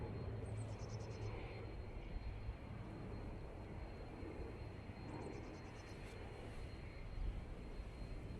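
Airliner departing Manchester Airport, a steady broadband jet roar at moderate distance that holds level throughout with no talk.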